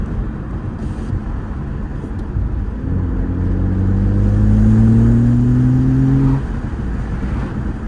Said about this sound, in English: Yeah, you can hear a little blow off.